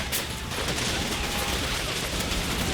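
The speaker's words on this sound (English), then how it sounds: "helped by another strafing run from the pilot who attacked his own troops' positions again" Dense, sustained gunfire from an aircraft strafing run in the WWII wargame Combat Mission: Battle for Normandy, a loud, continuous rattling burst filling the whole moment with no speech over it.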